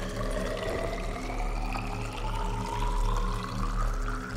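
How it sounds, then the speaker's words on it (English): Water pours in steadily inside an underwater base in Subnautica, a continuous rushing flow over a low hum. "we got some water coming in"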